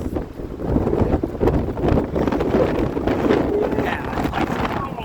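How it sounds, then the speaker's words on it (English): Severe winter storm winds of 60 mph with 80 mph gusts roar along the Lake Michigan shore at Portage Riverwalk Park, Indiana, buffeting the microphone in loud, continuous gusty blasts over the crash of big waves. "60-mile-per-hour winds with 80-mile-per-hour wind gusts"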